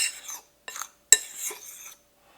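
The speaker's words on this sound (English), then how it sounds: "I'm just going to stir those together so you have those distributed throughout" Dry ingredients and salt stirred together in a bowl with a utensil: a few short, close scraping swishes separated by brief pauses, with a sharp clink in the middle.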